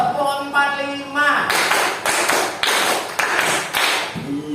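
Sharp group hand claps from a class of children ring out in a steady rhythm, about six in a row, following a short stretch of chanting voices.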